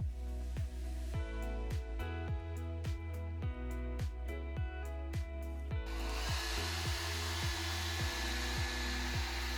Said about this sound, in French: les coups de sèche-cheveux sont vite arrivés